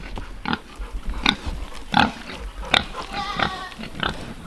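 Pigs grunt repeatedly in a muddy farm pen after heavy rain, short snorting bursts arriving every half second or so at close range, with faint background noise and no speech.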